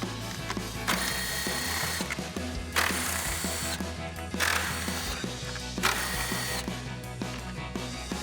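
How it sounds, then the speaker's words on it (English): A ratchet with a 10mm socket backs out the upper grille screws on a Ford Bronco, making bursts of quick, close metallic clicks separated by brief pauses. "We got our 10mm socket, and we'll pop these out."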